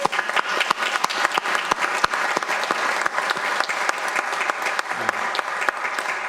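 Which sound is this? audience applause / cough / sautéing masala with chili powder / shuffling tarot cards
audience applause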